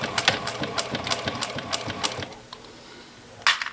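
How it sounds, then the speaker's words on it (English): A sewing machine back-stitches a leather wristlet clutch in quick, even rhythmic bursts, pauses briefly, then gives a final short burst. "And then I'm going to back stitch."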